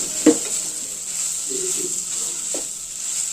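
Coconut chutney is stirred into a hot tempering in a pan, with a constant sizzle, a sharp utensil clink at the start, and soft scraping stirs later.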